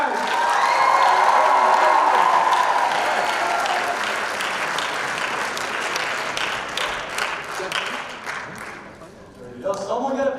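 Sustained audience applause fills a school showcase at Montgomery High School, dense and loud at first, then thinning into scattered clapping and cheers before a brief swell at the end.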